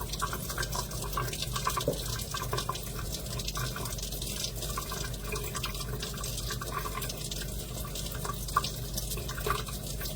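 Water is poured into cups to soak Herkimer diamond crystals, making a faint, steady trickle with scattered light drips throughout and no voices.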